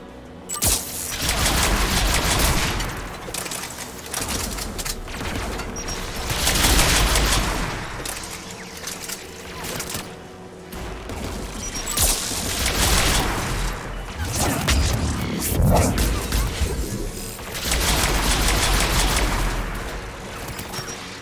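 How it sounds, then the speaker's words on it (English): Anti-aircraft guns in the Mass Effect 3 video game fire in dense, sustained bursts, a loud rolling barrage of booming shots that swells and recedes in waves across the whole stretch with no pause. "AA guns ahead."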